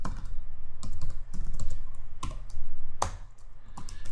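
Someone types on a computer keyboard in quick bursts of crisp clicking keystrokes with brief pauses between runs, close and clear with no talk.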